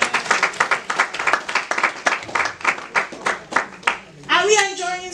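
Congregation clapping together in church, a steady run of loud, rapid claps for about four seconds, then a voice sings out briefly at the end.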